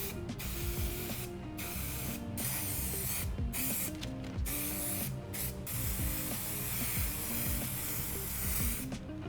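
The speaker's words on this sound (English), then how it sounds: "sprayed it to the seat pan with Sailrite spray" Sailrite spray adhesive hisses onto an office chair seat pan in a string of short, close bursts separated by brief pauses, with faint mechanical clicking between sprays and no voices.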